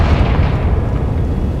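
A Confringo explosion spell in Hogwarts Legacy, a heavy, rumbling blast that fills the space with a broad low roar and slowly fades over under two seconds.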